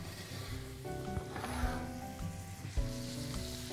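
Onions fry in a pan with a steady, close sizzle and occasional crackles, heard over faint background music with no talking.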